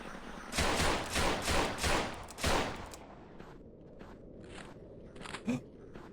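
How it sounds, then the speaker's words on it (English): Shotgun blasts in a video game come as a quick run of four or five loud, booming shots, then fade into quieter background noise and a few faint clicks. "A shotgun."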